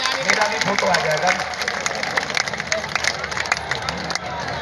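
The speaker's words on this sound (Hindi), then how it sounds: "एक बार पुनः जोरदार ताली बजाइए मेरे भाई के लिए।" A large crowd at a Hindu religious gathering claps steadily and loudly throughout, with a dense wash of applause and murmuring voices mixed in under amplified talk.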